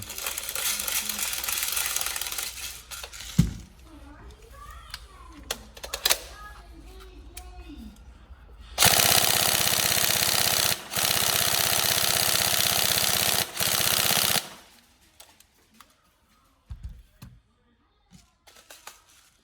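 An upgraded Tokyo Marui 416D NGRS airsoft rifle fires two long full-auto bursts, each a dense, steady buzz of rapid shots lasting several seconds, with quieter handling noises before and after.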